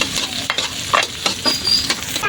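Garlic and onion sautéing in a pan for tilapia pochero, with a steady sizzle under brisk stirring and a few sharp scrapes of the spatula, close and clear.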